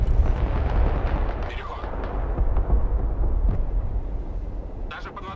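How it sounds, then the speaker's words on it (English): Bombing-strike explosions in the war game Broken Arrow boom in deep, rumbling bursts that roll over one another, with a sharper crack near the end and low background noise throughout. "Nice bombing strike onto that squad."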